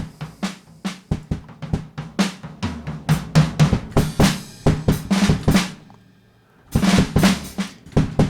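A drum recording processed with the Airwindows Mojo plugin plays as steady kick and snare hits with crashing cymbals, loud and punchy, dropping out briefly before the groove returns.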